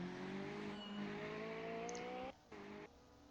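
Lancia LC2 race car engine in a Nordschleife racing game, a steady high-pitched roar that climbs in pitch as the car powers out in first gear, with brief dips at gear changes near the end.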